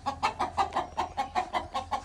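A desi village chicken clucks close by in a quick, even string of about ten short clucks, loud and clear with no talk.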